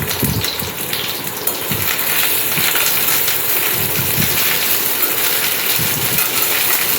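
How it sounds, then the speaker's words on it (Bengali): Potato pieces dropped into hot oil in a home kitchen, a loud steady sizzle and hiss filling the whole stretch without a break, close to the pan. "আলুগুলো ছেড়ে দিলাম গরম তেলে।"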